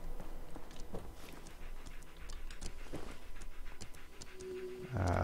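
A dog companion in the game Fallout 4 pants softly in quick, steady breaths, faint and close under light footsteps and clicks, with a louder thud at the end.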